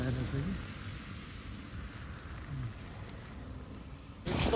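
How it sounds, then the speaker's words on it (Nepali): Heavy rain falls steadily during a wet motorbike ride from Pokhara toward Nayapul, a dense, rushing downpour heard up close and fairly quiet overall, with a louder burst near the end. "एकदम धेरै पानी आइरहेको छ"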